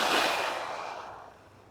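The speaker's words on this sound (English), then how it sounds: "A nice long, extended, relaxed exhale that finishes about the time that ball lands on the other side of the net" A long, relaxed exhale during a tennis drive swing, a breathy rush of air that starts strong and gradually tapers away over nearly two seconds, close and alone.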